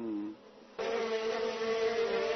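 Wild honeybees hum around a captured queen bee in the countryside, a close, steady droning buzz that swells louder partway through and then holds, with no voices.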